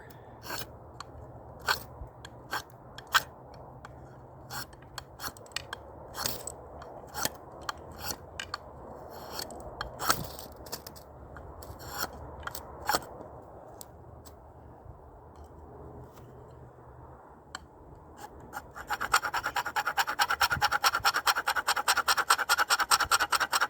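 A knife spine scrapes a ferro rod onto a tinder pile in a run of sharp rasping strokes, each stroke a distinct scratch, ending in a denser continuous grinding rasp.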